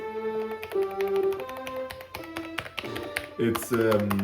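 Keys of a 1987 mechanical Commodore Amiga keyboard clacking in a rapid uneven run of sharp taps, loud and close, with faint background tones underneath.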